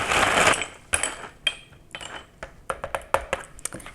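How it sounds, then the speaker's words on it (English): Agate cleaning solution stirred up in a container: a brief rushing swirl, then a scattered series of sharp, close clicks and clinks of varying loudness, with no voices. "Then you mix it all up"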